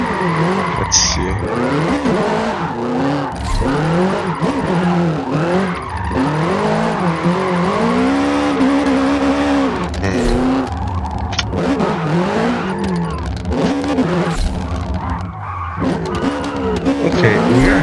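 A Toyota GR86 drifts along a mountain touge in a racing game, its engine revving and falling in wavering tones while tires squeal and skid almost without pause, loud and close for the whole stretch.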